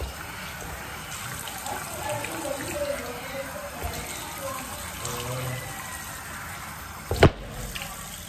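A tap runs while something is washed under it, a soft continuous trickle and splash close by, ending with a brief sharp clatter near the end.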